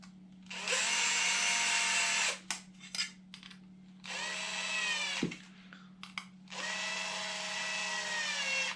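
A cordless electric screwdriver drives screws into the front end of an LC Racing BHC-1 RC car, three loud whirring bursts of about two seconds each separated by short clicks and handling noises, close up and alone.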